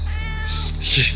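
A cat meows twice in quick succession, close and fairly loud, over a steady low hum and faint background voices.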